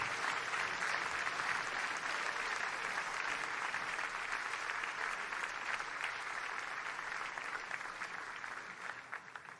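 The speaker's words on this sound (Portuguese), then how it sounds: "Vamos recebê-lo aplaudindo ao Senhor." Congregation at a church missions symposium breaks into sustained, dense applause for a pastor, steady and full throughout, easing slightly toward the end.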